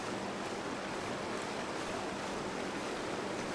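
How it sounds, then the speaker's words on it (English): Little waterfalls in the game The Long Dark give off a steady, even rush of falling water, a constant hiss with no breaks or voices. "It is kind of nice to see little waterfalls, though,"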